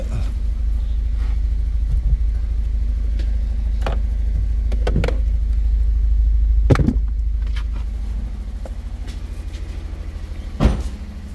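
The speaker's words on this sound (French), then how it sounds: "Donc le véhicule tourne sur 2 cylindres." A Fiat Punto 1.2 petrol engine idles roughly and misfires, running on only two cylinders with its engine warning light flashing. It gives a loud, steady, low rumble with uneven pulsing and a few sharp clanks, and no voices.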